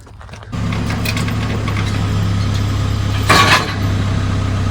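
A 2-stroke Detroit Diesel engine in a 1979 Chevy semi truck kicks in after a brief quiet start, then drones steadily and loudly with a low, even hum, swelling in a short burst near the end.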